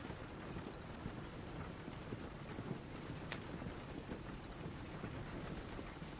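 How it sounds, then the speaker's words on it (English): Steady clip-clop of a horse's hooves on a road in Red Dead Redemption 2, a continuous trotting rhythm under light rain-like ambience, with no voices. "I think the horse is getting skittish."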